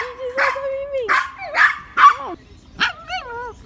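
A dog barks and yips in several sharp bursts, some whiny and high, close by and loud, with short pauses between.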